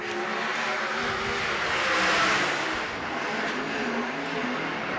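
Sprint cars race at Baypark Speedway, their engines merging into a sustained, rasping roar that swells to a peak midway as the pack passes, then settles back to a steady drone.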